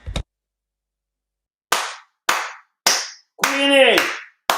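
A few separate, sharp hand claps with silence between them, and a short vocal shout in the middle rather than sustained crowd applause.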